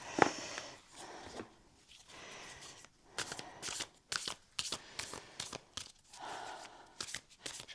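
Tarot-style cards being shuffled and drawn, giving a run of soft, close papery riffles and flicks in irregular bursts with short pauses between them, and no talking.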